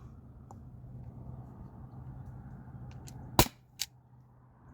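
An Umarex HDP50 air pistol fires steel ball bearings, giving one sharp crack followed shortly by a second weaker pop against a quiet background hiss.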